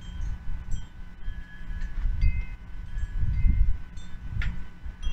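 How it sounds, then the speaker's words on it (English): Strong wind at an outdoor tent camp buffets the microphone in irregular low rumbling gusts, with some rustling and faint higher tones, close and continuous. "Well, it's really windy right now."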